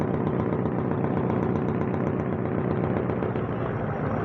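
Several passenger launch boats travelling together on a river produce a loud, continuous engine drone that stays steady and unbroken from start to finish.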